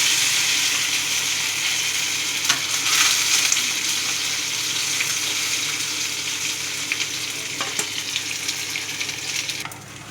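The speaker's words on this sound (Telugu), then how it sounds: "ఈ ముక్కలు కట్ చేసుకొని ఇట్లా కాల్చుకోవాలి" Pieces of colocasia (taro) leaf roll sizzle steadily as they fry in a hot pan, a continuous close, loud crackle with occasional stirring clinks and no talking.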